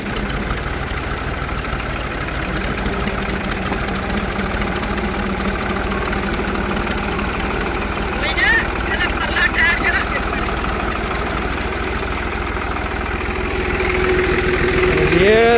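A tractor engine idles in a steady low rumble throughout, close by on a village farm during rice planting season, with people talking over it.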